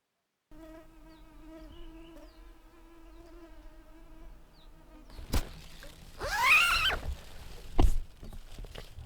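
Mosquitoes whine in the Muotkatunturi wilderness of Finnish Lapland, a steady, close, high-pitched buzz lasting several seconds. Louder rustling and knocking noises then take over.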